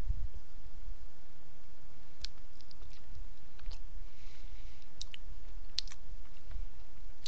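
Crisp, intermittent crunching and clicking bites of a Reese's Fast Break bar (chocolate, peanut butter and nougat), close and fairly quiet, with no talking.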